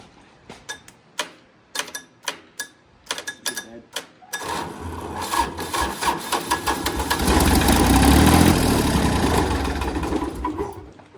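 An old John Deere diesel tractor engine cranks with a series of sharp rhythmic clacks, then catches and runs in a loud rough rumble that swells and steadies, with voices in the background.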